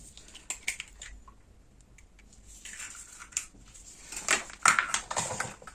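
Soft scraping and clinking of a utensil in a bowl as an egg and sour cream mixture is stirred, light and irregular, growing a bit louder toward the end, with no voices.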